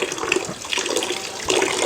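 Hot water from an instant geyser water heater tap runs in a steady splashing stream that varies slightly, up close, with no speech over it.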